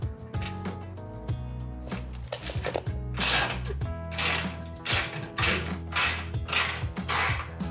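Ratchet wrench tightening bolts on the top trusses of a Pro bed rack fitted to a Toyota Tundra, close rapid clicking that comes in repeated short bursts and grows louder toward the end, with no talking.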